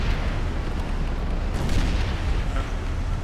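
A Flail artillery barrage in Planetside 2 rumbles on continuously, a dense, loud roar of booms and blasts with no pauses.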